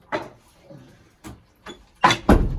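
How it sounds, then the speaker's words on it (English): An interior door in a small foyer swinging shut, with several distinct knocks and thuds spread across a couple of seconds, the last two louder and close by, ending in a solid closing bump. "And so let's close this door."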